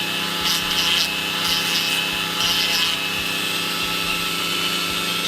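A rotary tool with a sanding drum hums steadily while rubbing and grinding nubs off a hard cast resin badge in short, scratchy bursts.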